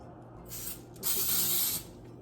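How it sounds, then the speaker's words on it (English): Two short hissing bursts of aerosol baking spray into a baking pan, close up, the second longer and louder, with quiet pauses around them. "you're gonna add baking spray in your pan"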